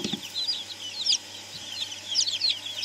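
Poultry in a filthy, crowded brooder with ducks present, giving repeated soft clucks and high chirps that overlap in a steady, busy chatter at close range over a low background hum.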